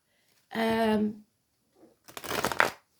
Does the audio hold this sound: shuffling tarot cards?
yes